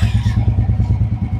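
A used motorcycle engine idling at a used bike market, a close, steady low thumping putter with an even rapid pulse, loud and alone.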